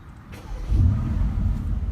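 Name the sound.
2016 Mercedes-AMG GT S Coupe engine starting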